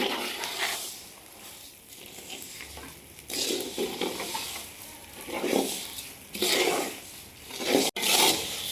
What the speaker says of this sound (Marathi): धनं पण चांगले एकदम परतून घ्यायचं आहे.